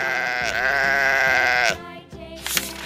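A sheep bleats loudly and close, one long wavering call that is cut off abruptly, followed by a shorter bleat.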